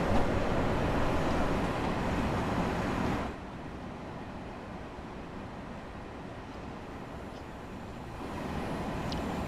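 Electric train motors in the video game Train Sim World 6 give a continuous low rumbling drone that eases down partway through, then builds slightly again, steady and without voices.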